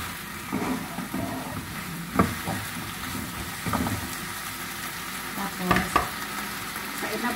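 Eggplant, okra and bitter gourd stir-frying in a pan for Ilocano pinakbet, a steady low sizzle broken by a few sharp clatters of stirring, close by with no voices.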